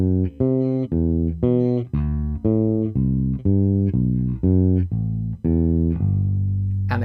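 Bass guitar plays a descending drill of inverted note pairs, each pair starting on the higher note then the lower, in a steady even rhythm of clean plucked notes alone.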